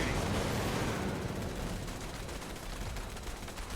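Sustained gunfire in Fallout 76, a dense, continuous roar of rapid shots that stays loud for the whole stretch, with no break and no talking.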